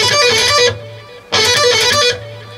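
A distorted electric guitar plays a fast lick built on pull-offs, two quick bright phrases with a short gap between them, loud and close with no talking.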